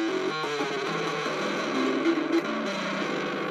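Electric guitar played through a Gitty amp kit with no distortion pedal in the chain, giving a dense, sustained and somewhat gritty tone that rings continuously at close range with no voices.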